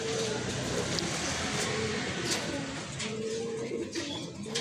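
A young racing pigeon coos softly amid constant background noise and murmured talk, the low cooing partly masked and indistinct.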